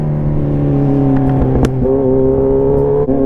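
A Kawasaki Z1000 motorcycle engine runs close and loud with a steady rumbling note, rising briefly as the rider blips the throttle partway through; no one speaks.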